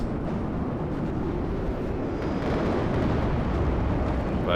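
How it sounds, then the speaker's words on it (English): Dense, continuous low rumble of bombs bursting during a bombing run in the real-time strategy game WARNO, heavy overlapping blasts rolling steadily for several seconds with no clear gaps. "I'm trying to do another bombing run."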